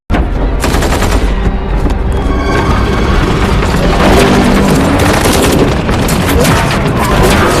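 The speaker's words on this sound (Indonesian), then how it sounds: "Mereka pun diberondong tembakan oleh para pemberontak." Dense, relentless bursts of automatic gunfire from rebels in a Korean war film ring out loud and close for several seconds, with booming shots layered over one another and no pauses.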